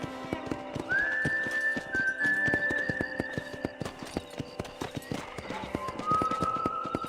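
A horse in the Western game Red Dead Redemption clip-clops along with steady hoofbeats, while a rising whistle sounds over the rhythm and a voice speaks briefly.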